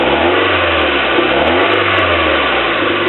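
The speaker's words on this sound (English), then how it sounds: "I'm going to show you how it revs up." Original engine of a 1991 Toyota MR2 Turbo revving steadily, a loud, close, continuous mechanical roar with a slight rising and falling surge and no voices.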